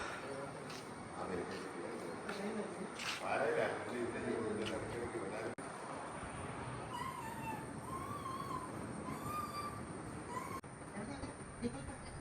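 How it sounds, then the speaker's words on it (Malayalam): A train approaches in Kerala as a steady rumbling rolling noise with some high squealing tones, heard under people talking. "ട്രെയിൻ ഇതാ വന്നുകൊണ്ടിരിക്കുന്നു."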